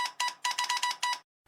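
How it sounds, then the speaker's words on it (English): Morse code sound effect: a series of short electronic beeps in an uneven dot-dash rhythm, a tone with bright harmonics, fairly quiet, ending in silence. "Morse code,"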